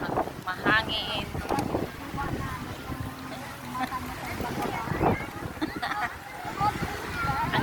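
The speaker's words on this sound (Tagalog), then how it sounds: "Mahangin." Gusty wind buffets the microphone at the Manila Bay seaside, rising and falling in bursts while people talk nearby and a busy crowd murmurs in the background.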